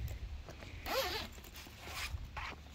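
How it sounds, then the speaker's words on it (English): Bi-directional zipper on a Burley Bark Ranger XL dog bike trailer being pulled open in a couple of smooth rasping runs, close and clear against a quiet outdoor background. "Zipper goes bi-directional, so you can open from the bottom and the top, or the top and the bottom"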